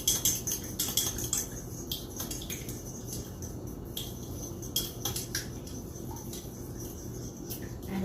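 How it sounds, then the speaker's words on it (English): A fork rapidly beating egg in a bowl for French toast, giving light, quick clinking and scraping taps against the bowl, steady and close, alongside a faint chirping background. "Poke the egg and give it a fast stir."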